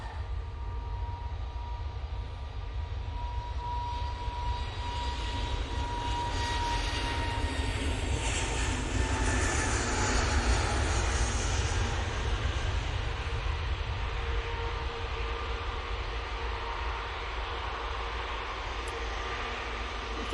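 An Aer Lingus Airbus A320neo takes off, its engines giving a sustained, distant roar at an airport that builds and swells midway, then holds steady.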